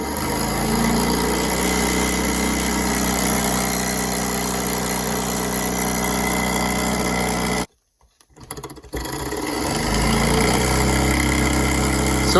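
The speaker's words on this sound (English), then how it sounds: "It's vibrating on this table." Small Stirling hot air engine running on a table, giving a steady close mechanical hum and rattle from the vibration, which stops briefly for about a second before carrying on.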